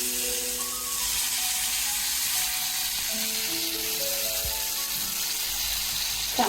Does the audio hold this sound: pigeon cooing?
no